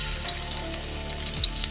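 Garlic frying in cooking oil for pork adobo, a close, continuous sizzle with small bursts of spitting and an occasional soft knock of a utensil, no talking.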